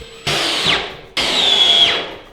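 A power drill drives a screw into wood on a DIY home power rack build, with two loud, close bursts of whining motor, the second longer and rising in strain before it stops.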